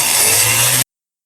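A rotary tool with a burr grinds a Harley-Davidson Sportster 1200 cylinder head, a loud steady high-pitched whine that runs for under a second and then cuts off into silence.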